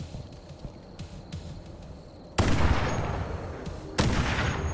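Sniper rifle fire in the Halo video game, two loud sudden cracks each followed by a lingering rumble, with quieter clicks and game sounds in between.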